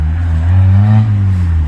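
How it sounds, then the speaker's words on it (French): A neighbour's rally car engine revs loudly and close, a deep steady roar that swells briefly in the middle, with no voices over it. "Il fait du rallye, lui. Il a une voiture de rallye."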